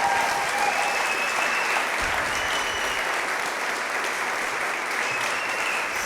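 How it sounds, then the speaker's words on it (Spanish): A church congregation applauds in a dense, continuous wash of clapping that holds steady throughout, with no speech over it. "le damos gracias a Dios y le damos un aplauso porque Él es bueno,"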